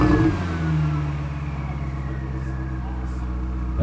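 A Ferrari 488 fitted with a Novitec exhaust growls near at hand, its engine note rising in a rev then settling into a steady rumble, with voices talking over it.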